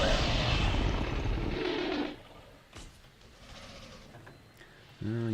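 A helicopter in the Jurassic World video game passes overhead, a loud broadband whir that fills the first two seconds and then drops away, leaving quieter game ambience and a short cooing call near the end.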